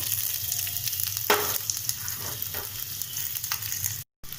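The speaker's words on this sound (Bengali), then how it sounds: "পেঁয়াজগুলোকে আমাদের মিডিয়াম ফ্লেমে হালকা ব্রাউন হওয়া পর্যন্ত ফ্রাই করে নিতে হবে।" Chopped onions fry over a medium flame in oil with whole garam masala and a bay leaf, a close, lively sizzle with a few sharp spatters and stirring scrapes, cutting out briefly near the end.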